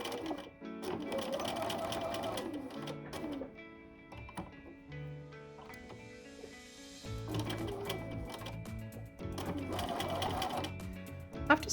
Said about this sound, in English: use your normal sewing machine and either use a stretchy stitch like a zigzag